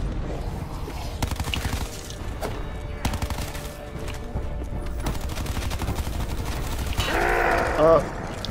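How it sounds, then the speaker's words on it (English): Gunfire in the Black Ops 4 Zombies map Blood of the Dead, bursts of shots and impacts rolling through a dense game mix with music, a louder swell of shooting and effects near the end. "I shoot off his helmet"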